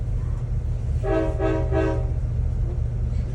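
A Norfolk Southern train rumbles low and steady along the track while its horn sounds three short blasts in a row.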